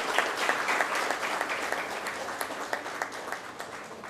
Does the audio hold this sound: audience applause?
yes